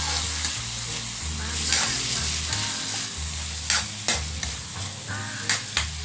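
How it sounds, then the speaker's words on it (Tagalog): Beef skin for kare-kare sizzles and fries in a pan while a utensil stirs and scrapes through it, with a steady close hiss and a few sharper scraping strokes near the end. "Halo lang tayo ng halo."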